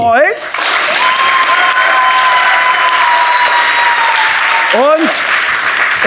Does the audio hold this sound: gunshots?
no